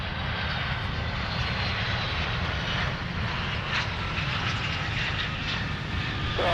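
A jet airliner's engines roar steadily and loudly at Minneapolis–St. Paul airport, a broad continuous rumble with no talk over it.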